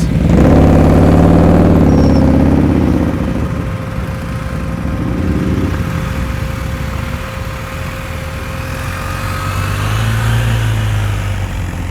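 Motorcycle engine running at low speed during slow-speed riding skills practice in Tennessee, a steady mid-pitched drone with a louder stretch early on, then easing back to a continuous idle-like hum.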